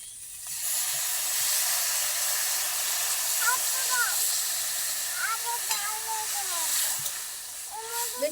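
Egg bhujiya curry hisses and sizzles steadily in a hot pan after a splash of water goes in, a continuous close steam hiss with a few faint voices and clinks over it.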